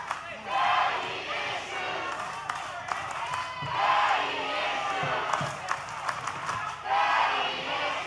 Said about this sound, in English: The crowd chanting daddy issues.